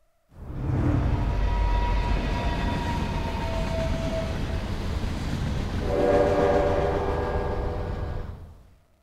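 A train starting up in the video game Eternights: a loud, sustained horn blast fades in, dips, then sounds again, over a continuous rolling clatter of the train, with no voices.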